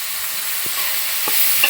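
Onions and salt get stirred in a hot pan for Kerala-style kappa biriyani, a constant close sizzle broken by a few quick spoon scrapes, with no talking.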